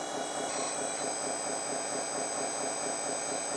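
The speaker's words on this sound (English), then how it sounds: "your hydraulic pump is actually in the back over here, and you gotta turn it on before using any of the hydraulic cylinders" The hydraulic pump on a JDM-98 RC hydraulic bulldozer runs with a steady, high-pitched electric whine and hum, close and constant throughout without pauses.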